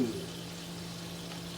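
Beef and broccoli stir-fry sizzles steadily in a hot pan, a soft, even crackling hiss lasting the whole moment without talk.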